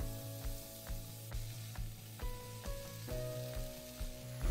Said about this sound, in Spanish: Ahora lo que queremos es sofreír la calabacita